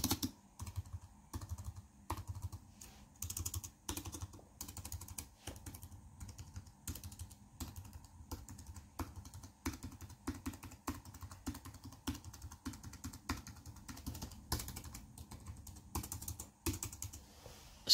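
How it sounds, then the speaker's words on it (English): Continuous key clatter from typing on an Apple keyboard, a steady run of quick close taps with brief pauses, alone with no talk. "Now, on to the Apple keyboard."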